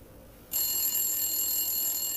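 Old-fashioned telephone bell ringing loud and steady, a continuous metallic trill that starts abruptly and carries on alone.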